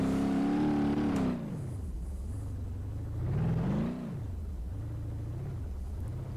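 A 1972 Gavril Bandit in BeamNG.drive revs and accelerates out of a corner, its engine note climbing in pitch, dropping as it eases off, then rising again in a second, gentler surge.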